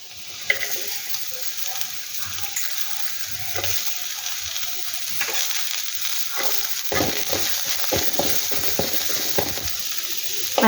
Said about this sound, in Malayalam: ഇനി നമ്മൾ അരിഞ്ഞു വെച്ചേക്കുന്ന ബീൻസ് കുറച്ച് ഇതിനകത്തേക്ക് ഇടുവാണേ